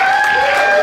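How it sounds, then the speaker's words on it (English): An audience claps at a live hypnosis show, a brief, loud burst of applause mixed with crowd noise and a few raised tonal voices, cut off after under a second. "give them all a big round of applause"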